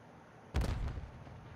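A frag grenade goes off in Call of Duty MW3 ranked play: a single booming blast that rolls out with a rumbling tail over about a second, moderately loud against quiet game ambience.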